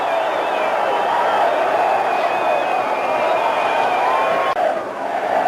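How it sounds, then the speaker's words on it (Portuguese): Continuous roar of a Formula 1 race crowd cheering at a Brazilian Grand Prix with Senna, Hill and Schumacher, a dense, sustained wash of voices with faint tonal whines over it. "A torcida não para."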